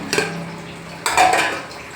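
Two metallic clanks of a pot lid lifted off simmering moringa leaf sambar, one light knock followed by a louder scraping lift about a second later, with a faint simmer underneath.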